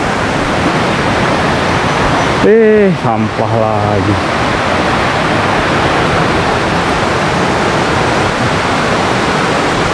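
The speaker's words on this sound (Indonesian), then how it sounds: "air terjunnya itu" Waterfall at Curug Papat in Rejang, Bengkulu, fed by a river, roars as a loud, steady broadband rush through the whole clip, with a short burst of speech about a third of the way in.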